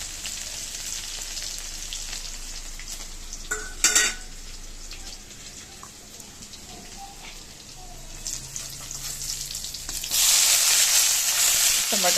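Garlic fries in hot oil in a pan, a steady soft sizzle with a few clinks of utensils against the pan and louder hissing bursts toward the end.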